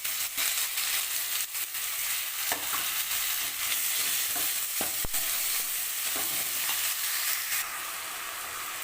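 Chopped tomatoes sizzle and soften in a pan with garlic and curry leaves, a continuous close hiss broken by frequent scraping and tapping strokes of a stirring spoon, with no voices.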